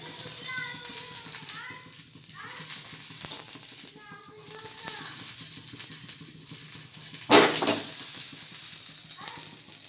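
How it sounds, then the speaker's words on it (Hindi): Oiled brinjal sizzles steadily as it roasts on a hot tawa, a soft continuous frying hiss with a brief louder crackle near the end, while children's voices chatter faintly in the background. "अब मैं बैगन को बाहर से तेल लगाऊंगी और तवे में भुनने के लिए रखूंगी।"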